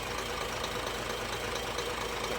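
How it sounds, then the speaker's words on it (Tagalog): An engine with a faulty injector runs with a dense, continuous rattling fuel knock, close and loud throughout. "Na-diagnose namin nasa injector kay sobrang lagatak yung andar, fuel knock"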